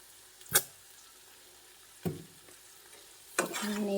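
Food frying in a home kitchen pan is stirred in three separate bursts, each a sharp scrape followed by a short sizzle, with quiet gaps in between and a louder, longer sizzle at the end.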